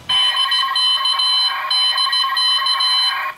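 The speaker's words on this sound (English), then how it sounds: "just press it gently and you'll hear the connecting music" DX Moe Moe Z-Kyun (MMZ-01) toy figure from Unofficial Sentai Akibaranger plays its connecting music: loud, bright electronic tones held steadily for about three seconds from a nearby toy speaker, with no talking.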